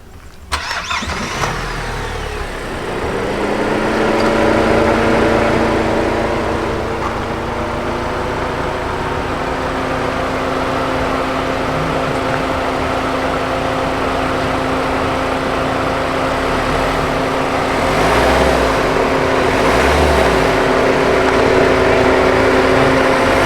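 The 1.5-litre diesel engine of a 2021 Kia Sonet HTK Plus manual starts with a short crank. It then settles into a steady, loud idle with a constant low hum and a slight rise in revs later on, with no talking.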